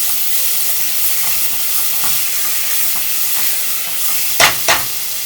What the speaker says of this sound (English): I'm gonna mix this up really nice.